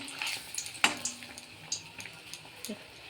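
Malpua batter fries in oil in a pan with a soft, uneven sizzle, punctuated by light clinks and scrapes of a utensil. The sound is fairly quiet and there is no speech.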